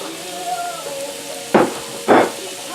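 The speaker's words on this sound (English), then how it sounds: "Hear that sizzle." Spiralized summer squash and zucchini frying in a pan, a low steady sizzle with two louder bursts of hissing spatter near the end, close up with no talking.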